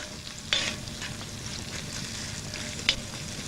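Steady sizzling of food frying in a hot wok, with a couple of sharp metallic scrapes from stirring, and no voices.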